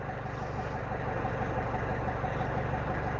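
A Zenoah 32cc petrol engine, newly rebuilt with a fresh piston and ring and still being broken in, idles steadily with an even, droning hum that is close and moderately loud.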